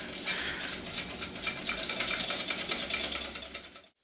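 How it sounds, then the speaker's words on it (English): Egg yolks are beaten briskly in a bowl, a fast steady clatter of whisk strokes for a few seconds before stopping abruptly. "But you just want to beat your eggs first."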